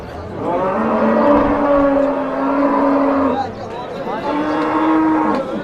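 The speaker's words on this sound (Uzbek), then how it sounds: "No'cha sigir turibdi mana." A cow at a livestock market lows in two long, drawn-out moos close by, with a short pause between them over faint background bustle.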